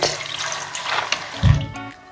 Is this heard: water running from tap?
yes